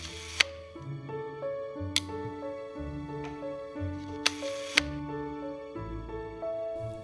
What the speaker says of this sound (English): shutter release, and the blind slide reinserted